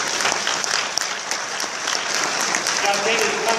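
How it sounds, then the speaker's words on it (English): An audience at a tech conference bursts into loud, steady applause, dense clapping from many hands close by that carries on without a break, with no voices over it. "So another big round of applause for Danny."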